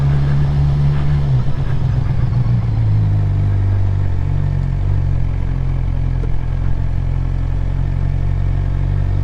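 Motorcycle ridden steadily in second gear, the engine note loud and close with a low rumbling drone that rises briefly early on, then holds a constant pitch under wind noise throughout.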